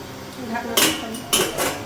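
A lid set onto a cooking pot in a home kitchen while whole tomatoes and water cook, giving two bright metallic clanks close by with faint rattling between them.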